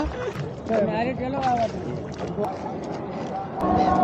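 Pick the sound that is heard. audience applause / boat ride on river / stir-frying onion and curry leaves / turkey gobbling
boat ride on river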